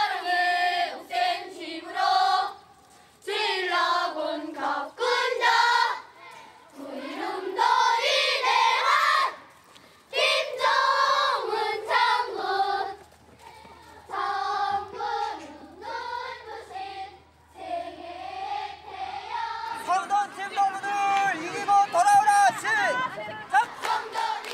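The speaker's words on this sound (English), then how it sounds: "Each side is cheering on its team." Children in a stadium crowd cheer on their teams at a sports competition at a North Korean young pioneer camp, voices chanting and shouting in bursts, with a narrator speaking over the crowd.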